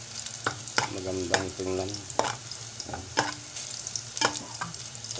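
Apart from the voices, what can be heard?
garlic sautéing in a pan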